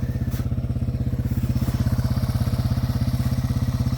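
A Yamaha TW200 converted to a three-wheeler chugs along a trail in low first gear, its single-cylinder engine putting out a steady, close, rapid thumping pulse that stays loud and even throughout.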